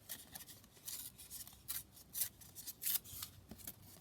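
Coffee-dyed paper is torn by hand in a craft setting, giving several short, crisp ripping bursts in quick succession, close and fairly quiet, with no talking.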